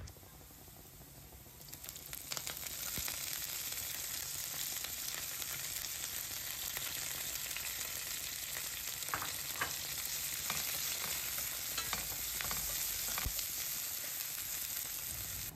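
Chopped onions and curry leaves sautéing in hot oil, a loud, dense sizzle that swells after the first couple of seconds and holds steady, with scattered stirring scrapes and no talking.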